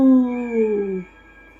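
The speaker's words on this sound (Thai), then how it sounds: "หมาเจ้ากรรมดันเห่าหอนขึ้นมาเสียก่อน" A single short dog howl, close and loud, with a clear tonal wail that slides downward in pitch and fades after about a second.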